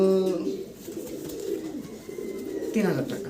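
Large Lahori pigeons coo several times in short throaty bursts, close by, with a person talking over the calls.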